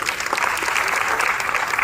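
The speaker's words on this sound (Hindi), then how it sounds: "ताली बजाओ" An audience at a BJP party workers' conference claps steadily for about two seconds, a dense, close burst of applause from a large indoor crowd.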